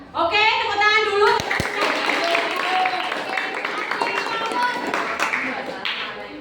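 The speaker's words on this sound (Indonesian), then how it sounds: "Oke, tepuk tangan dulu." An audience claps together at a teacher training session in Malang, a loud dense burst of applause that carries on steadily and slowly tapers off.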